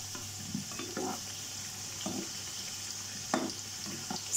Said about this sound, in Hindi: ये हमारे पोटैटोज फ्राई हो चुके हैं, अब हम इसे निकाल लेंगे।